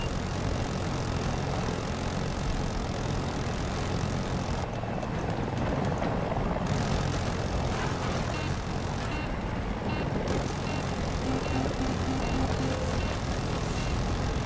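Mi-240 Super Hind attack helicopter in the video game Battlefield 2042, flying through a sandstorm: a loud, continuous engine and rotor roar that stays dense and unbroken, with wind noise mixed in.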